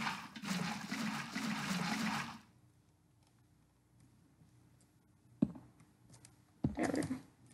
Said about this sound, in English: We'll destroy the water source because that was coming up.